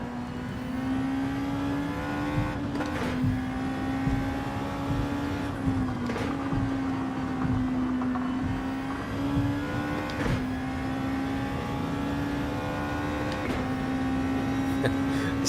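Racing car engine in Gran Turismo 7 holding a steady high drone through a long drift, with a few brief revs and shifts, loud and continuous throughout.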